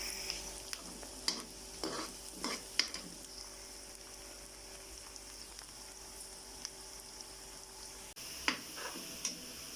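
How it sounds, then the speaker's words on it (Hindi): Onions frying in a pan until light brown, with a quiet steady sizzle and repeated light taps and scrapes of a spoon stirring them at an irregular pace. "प्याज को हमने हल्का सा ब्राउन कर लेना है।"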